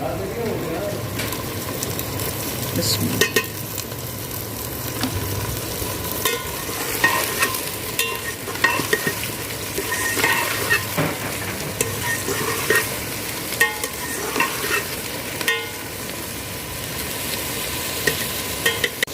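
A masala of onions, tomatoes and green chilies fries in a pan with a steady sizzle, broken by repeated scraping and stirring strokes throughout.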